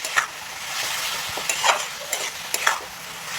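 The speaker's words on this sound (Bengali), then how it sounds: "এই সবজি ভাজার মধ্যে আমি চিনি দিয়ে দেবো" Mixed vegetables with peas and sugar fry in a pan with a soft, steady sizzle while a spoon scrapes and knocks as they are stirred at an irregular pace.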